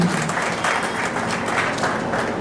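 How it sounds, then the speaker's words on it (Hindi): Audience applause for Ranjika madam, a special educator, at a Lions district governor's visit event; steady crowd clapping with a soft rhythmic pulse, moderately loud and continuous. "तो जोरदार तालियां रंजिका मैम से"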